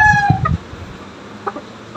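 A hen that mothers winning gamecocks gives a few close, short clucks, with a brief burst at the start and another soft call about midway, separated by near silence.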